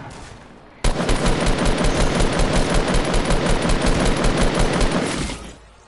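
Rapid automatic gunfire in a PS4 shooter game bursts in suddenly and rattles continuously for several seconds at close range, then fades out.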